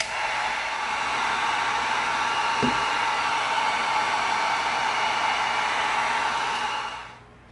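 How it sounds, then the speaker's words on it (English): Heat gun heat-sealing raw EVA foam: a steady, loud blowing roar runs unbroken for about seven seconds, close to the mic, then cuts off at the end. "let's heat seal this middle area because we didn't yet, and it's raw foam"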